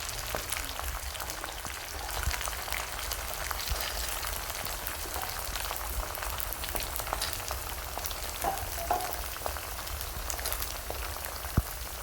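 Finely chopped small onions (shallots) sautéing in a pan for a tamarind rasam, producing a constant broadband frying hiss that is steady and close, with occasional faint clinks.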